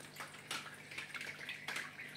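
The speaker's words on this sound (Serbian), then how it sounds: "Čuje se žubor vode." Water gurgling and trickling inside an Elit LQ-AC02 evaporative air cooler as its pump starts, faint intermittent splashes and drips close up with no talking.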